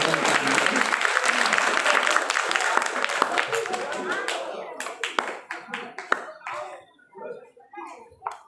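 Crowd applause at a Balinese prembon dance-drama performance at a hilltop temple, dense and loud at first, then thinning into scattered individual claps, with children's and adults' voices mixed in.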